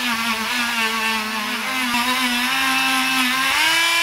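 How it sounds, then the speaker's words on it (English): A grinder fitted with a felt pad buffs a beach stone with polishing paste, giving a loud steady whine that shifts pitch slightly as pressure changes and keeps going without a break. "grinder, and on the end of it I've got a felt pad"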